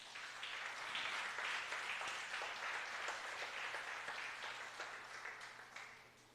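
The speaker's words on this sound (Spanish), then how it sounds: "Dale un aplauso a Dios." A church congregation applauding during a sermon, steady broadband clapping filling the whole stretch at moderate distance, fading slightly toward the end with no talking.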